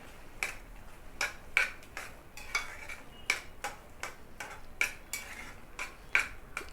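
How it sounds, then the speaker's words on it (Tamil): A spoon repeatedly scrapes and taps against a vessel while grated jaggery is mixed into susiyam filling, giving a steady run of sharp, fairly close clinks about twice a second over a quiet background. "இப்போ இதோடு நான் வந்து மிக்ஸ் பண்ணிக்கிறேன்."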